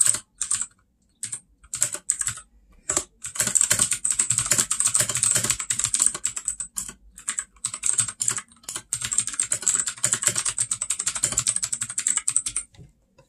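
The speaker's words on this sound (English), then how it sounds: "Okay, typing random crap sound test." Fast typing on a Royal Kludge 61 mechanical keyboard, crisp clicky keystrokes in quick irregular bursts separated by brief pauses, close up.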